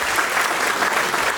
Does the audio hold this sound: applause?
yes